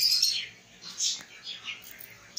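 Finches in a breeding cage give a few short, high chirps and tweets in scattered bursts, fairly close and moderately loud, with no voices.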